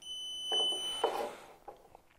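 A motorcycle lap timer box gives a single electronic beep as it is held down to switch on, a thin, steady tone for about a second with faint handling noise, quiet and close.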